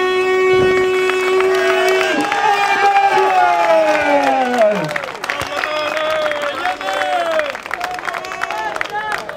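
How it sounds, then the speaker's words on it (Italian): A boxing crowd applauds and cheers for boxer Ruggeri in the red corner, a loud dense roar filling the whole stretch under ringing tones and an announcer's amplified voice. "un grande applauso a Ruggeri"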